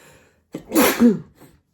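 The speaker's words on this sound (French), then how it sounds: "Et voilà, éternuement." A single sharp sneeze with a quick intake of breath before it, close and loud, followed by a faint exhale.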